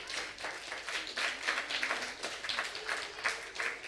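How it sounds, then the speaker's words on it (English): A seated audience at a personality development session claps in a steady, dense round of applause, fairly close and even in loudness throughout, with no talk over it. "a round of applause to all of you"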